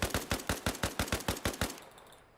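A rifle magazine is emptied in ArmA Reforger: about eleven evenly spaced, loud gunshots in steady semi-rapid rhythm, followed by a fading echo tail.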